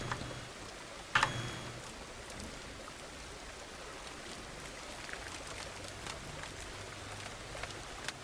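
Rain in the farming video game Farmers Dynasty falls as a faint, steady wash of patter and hiss throughout, with one brief sharper tap early on; no voices are heard.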